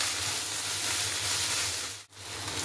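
Ginger and garlic paste frying in a pan for a goat meat curry: a soft, even sizzle hissing steadily, dipping briefly just before the end.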